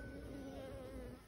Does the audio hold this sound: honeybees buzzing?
yes